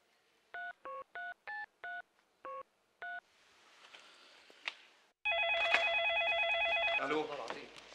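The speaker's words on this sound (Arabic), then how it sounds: "اسمعي لي أضرب تليفون للولاد حسن دول" A telephone number is dialed at home by a worried father calling his sons, heard as a quick run of separate touch-tone beeps, a short hiss, then a loud steady ringing tone on the line.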